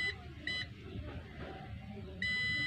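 A multimeter continuity buzzer sounding in two short high beeps and then one longer steady tone while testing a shorted part on a Bluetooth speaker board, heard close over quiet room noise.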